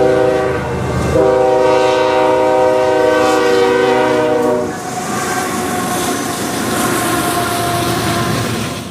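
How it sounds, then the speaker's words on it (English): Conrail freight train CP-244 passes at speed at Romulus, Michigan, opening with a loud, sustained multi-tone horn blast that gives way to a close, roaring rush of wheels and rail cars rolling by. "Our final train of the evening was CP-244 once again, this time caught at speed at Romulus"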